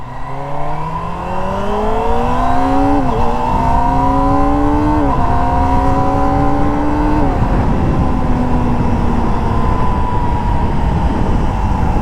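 A 2024 Kawasaki ZX-25R SE motorcycle engine screams loudly and continuously while riding, its pitch climbing through the revs with three quick upshifts, then holding a steady high whine.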